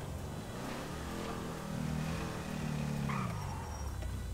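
A car engine in a GTA roleplay game revs hard and roars steadily, loud and continuous, with a rising surge midway and no talk.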